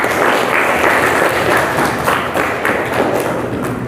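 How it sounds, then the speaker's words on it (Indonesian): A classroom of students claps together for their own attendance, a dense, steady patter of hands close by with a few heavier thuds mixed in. "Tepuk tangan dulu semuanya untuk kalian atas kehadirannya"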